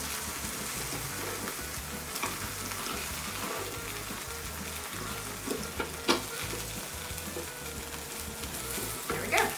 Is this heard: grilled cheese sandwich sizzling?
yes